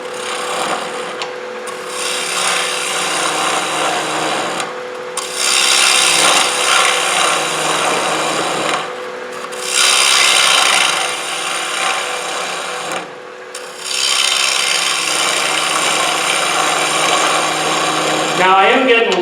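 Wood being turned on a lathe, the gouge cutting and throwing shavings in loud, sustained scraping bursts separated by short pauses, with a steady motor hum beneath.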